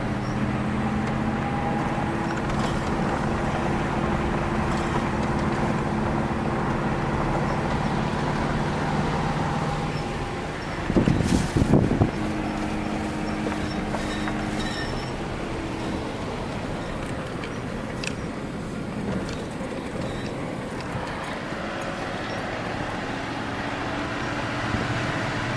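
A vehicle driving across a 140-acre ranch property, with a steady loud engine and road rumble from inside throughout and a brief rattling clunk partway through, no talk.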